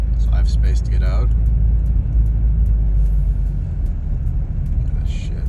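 A Mazdaspeed 3 with an automatic transmission rumbles low and close while being swung around into a parking spot, with a voice heard briefly over the engine.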